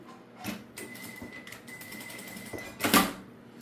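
Fabric is stitched to fasten it onto a Nossa Senhora de Aparecida crown medallion for a rosary holder, with close, quiet mechanical whirring and clicks that end in a louder clatter.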